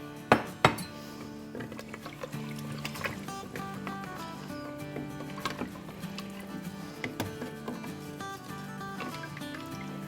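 Stirring clinks of a utensil against a metal pressure cooker pot holding about four cups of water, with two sharp knocks near the start and lighter scattered taps under steady kitchen background hum.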